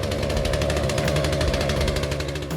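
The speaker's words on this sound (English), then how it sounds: "Old man's got his chainsaw out." An old man's chainsaw runs at a steady, loud idle-like drone with rapid rhythmic pulsing, continuous throughout with no talking.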